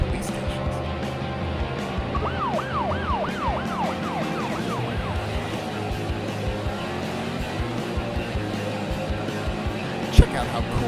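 Police car sirens from several cars wail in a repeating rising-falling pattern, moderately loud over steady road traffic and engine rumble, with a brief sharp knock near the end.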